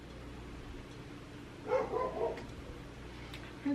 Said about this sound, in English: One day we'll film a video and Bear won't be barking.